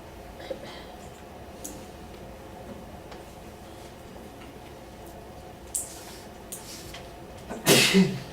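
A single sharp sneeze bursts out near the end, after several seconds of quiet room noise with a few faint ticks.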